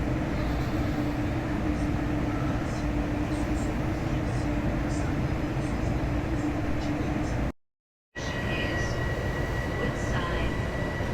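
A train rumbles steadily at Woodside station in Queens, bound for Penn Station, a loud continuous rolling drone with faint high squeals, briefly cut off near the end before the rumble resumes.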